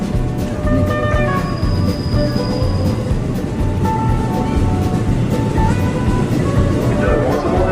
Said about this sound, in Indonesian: Ini keretanya.